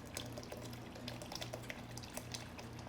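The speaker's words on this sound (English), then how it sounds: "We're gonna return it back to our pot." Blended pozole verde sauce streams back into a cooking pot as a faint, steady liquid pour with soft splashing, quiet and uninterrupted, with no one speaking.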